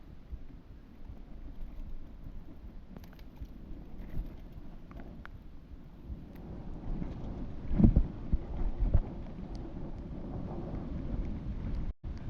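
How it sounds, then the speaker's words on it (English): A breeze buffets the microphone on the Rock n Roller mountain bike track at Hunchback MTB Park in Wodonga, Victoria, a steady low rumble of wind that swells stronger about two-thirds of the way through. "Breeze is beautiful."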